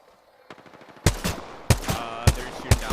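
Gunfire in a video game comes in sharp, loud bursts, with a softer rattling volley first and then four heavy shots at regular intervals, each followed by a brief ringing tail.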